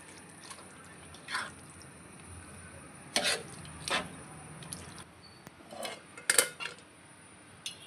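Chicken pieces being mixed with onion paste in a pot for a chicken and drumstick curry: sparse, close clinks and scrapes of a spoon against metal, with quiet pauses between strokes.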